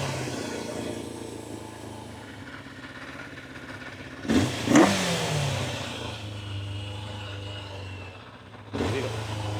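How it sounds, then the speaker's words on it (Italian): A Suzuki GSXR 750 motorcycle engine running without air filter after a carburetor overhaul, idling steadily with a sharp throttle blip and rev around the middle and another rise near the end, close and loud. "Regoliamo un po' al minimo per farla stare accesa."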